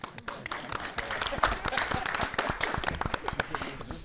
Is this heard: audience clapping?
yes